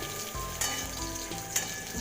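Bitter gourd frying in a hot pan for a Bengali shukto gives a steady, close sizzle with soft crackling that runs the whole time, with no voices.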